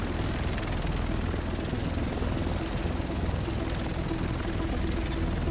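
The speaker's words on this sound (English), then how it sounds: "The rest of us should be in this chopper." A helicopter in The Division video game gives off a loud, continuous rotor and engine drone that holds steady for several seconds.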